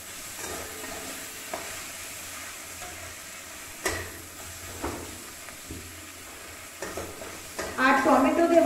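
Chili fritter filling frying in a pan with tomato, a spoon stirring and scraping through it at irregular intervals over a low sizzle that grows louder and brighter near the end.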